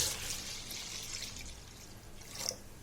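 Water pours into a plastic bucket of soaking semolina, a quiet, continuous trickling wash that swells briefly near the end.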